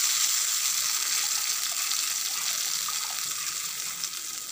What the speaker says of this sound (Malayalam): അതിക്ക് നമ്മൾ പുളി ചിന്തി കഴിഞ്ഞ് വെച്ച വെള്ളം ഒഴിച്ച് കൊടുക്കുകയാണ്